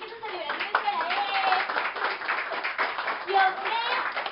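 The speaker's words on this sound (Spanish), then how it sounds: "Por favor, un aplauso para Jofre" An audience claps at a birthday celebration on a Spanish-language television show, a lively stretch of mixed hand claps under cheering and a talking host.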